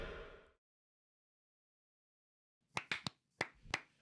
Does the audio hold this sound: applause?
yes